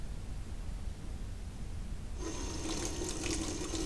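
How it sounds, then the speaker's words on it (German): An old-fashioned water tap in the Black Mirror 2 game turns on partway through and runs with a steady splashing hiss, faint and close after a quiet room tone. "Ein Wasserhahn, wie er vermutlich vor 50 Jahren überall im Lande zu finden war."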